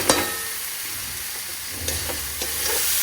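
Chana dal hits a pan of frying spice paste and sizzles loudly and steadily, with scraping stirs and small clatters over the hiss and no talking.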